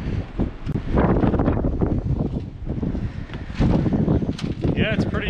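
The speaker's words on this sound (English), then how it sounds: "Yeah, it's pretty windy up here." Strong wind buffets the microphone at the top of a lookout tower at Pennsylvania's highest point, a loud, gusty rumble that rises and falls without a break.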